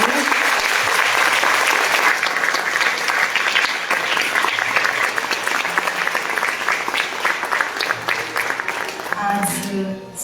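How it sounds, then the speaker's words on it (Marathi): Audience applause for a singer at a morning music concert in the cold, a loud, continuous wash of clapping from a crowd that tapers slightly near the end, with faint voices underneath. "तिच्यासाठी एकदा जोरदार टाळ्या वाजवा."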